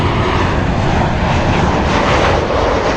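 An airliner in Disney livery at LAX roars steadily and loudly throughout, a dense broadband engine rumble with no voices.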